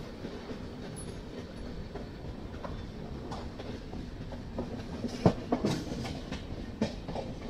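Inside a first AC coach of the Bangalore–Gorakhpur Raptisagar Express as it pulls away, a steady rumble of rolling wheels carries soft rhythmic clacks and a few louder knocks, with no talking.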